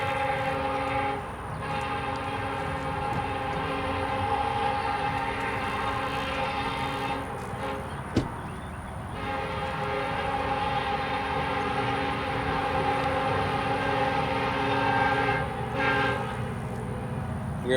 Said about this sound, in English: We are waiting on a southbound KCS intermodal train coming from Shreveport, Louisiana